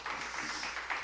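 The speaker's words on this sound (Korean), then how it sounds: "오늘 수고하신 교수님께 박수로 감사를 표하겠습니다." A lecture audience applauds to thank a professor, a brief burst of dense clapping at moderate volume with no clear voices.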